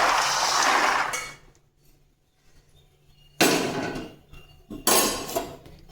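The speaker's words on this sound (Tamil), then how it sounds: "அவ்வளோதான், வேர்க்கடலை வறுபட்டுருச்சு. எடுத்து முறத்தில் கொட்டி ஆற வைக்கலாம்." Roasted peanuts are tipped into a winnowing basket, giving two bursts of dry rattling and clattering with a quiet gap between them. The sound is close and loud, and nobody speaks.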